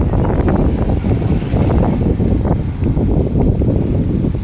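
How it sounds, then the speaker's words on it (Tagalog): Strong wind buffets the microphone in loud, continuous gusts, a heavy roaring rush with no letup. "Grabe, super lakas ang hangin."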